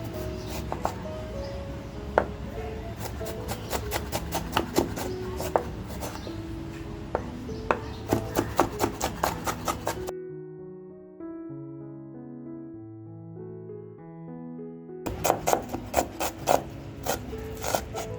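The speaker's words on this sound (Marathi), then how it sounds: "2 कांदे आणि 1 टॅमॅटो घेतला. हे अगदी मी बारीक कापून घेणार आहे." Knife finely chopping onions and tomato on a board: fast, steady rhythmic taps, close and fairly quiet, with a brief pause partway before the chopping resumes.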